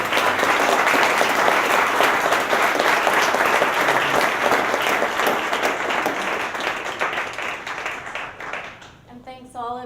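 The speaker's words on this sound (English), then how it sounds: "Round of applause." An audience claps for panelists at the end of a sustainable fuels forum panel discussion during Climate Week NYC. Loud, dense applause runs steadily for most of the stretch, then tapers off as a voice begins near the end.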